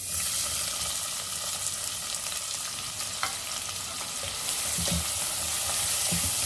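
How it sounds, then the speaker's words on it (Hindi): Onions sizzling and frying in hot oil left over from frying okra, a steady crackle with occasional stirring clinks, close and continuous with no talk. "अब हम इसी तेल में डालेंगे प्याज।"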